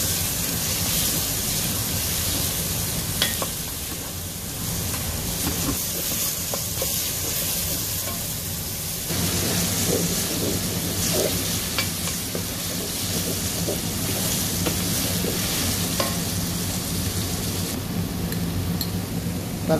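Chopped vegetables sizzle in about 100 ml of hot olive oil for a Bolognese ragù, a loud, continuous crackling fry with occasional scraping and stirring noises, the hiss shifting in intensity as the pan is moved.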